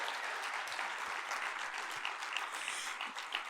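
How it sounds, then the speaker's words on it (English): An audience at a 2023 campaign kickoff event claps steadily and fairly loudly for a few seconds, with a dense, even patter and no talk over it. "So I need a little clapping there too,"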